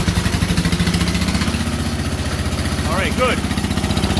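A three-wire diesel generator set with an Onan OT 70 automatic transfer switch runs at steady idle, giving off a close, low, rhythmic engine chug. A person speaks briefly over it.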